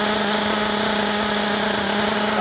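A nitro RC car engine running lean on its low-speed mixture gives a steady, loud, high-pitched buzzing whine with a metallic pinging edge, continuous and close throughout with no talk.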